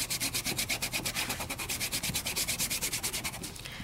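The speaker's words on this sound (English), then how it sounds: "I am going to give it a good burnish." Glitter on double stick stickers is burnished with quick, even back-and-forth rubbing strokes, a soft rhythmic scratchy swish repeating steadily and close by.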